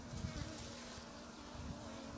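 Honey bees buzz around a hive box, a faint, steady close-up droning hum that carries on without pause and with no speech over it.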